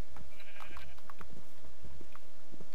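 Minecraft sheep bleat in short, repeated nasal cries, several brief calls spaced across a few seconds over a low game background hum, with no talking.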